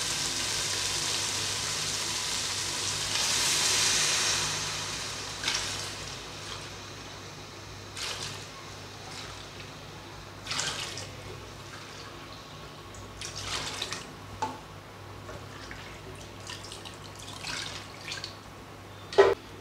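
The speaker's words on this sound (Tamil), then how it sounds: "அதனால் 6 கப் அளவுக்கு தேங்காய் பால் சேர்த்துக்கிறேன்." Coconut milk is poured into a hot pan of sautéed ingredients for rice. It makes a soft, continuous hiss and bubbling sizzle with a brief louder rush near the start, then quieter spits and drips.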